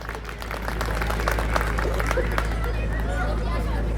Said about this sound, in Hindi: जरा इनके लिए ताली बजाइए।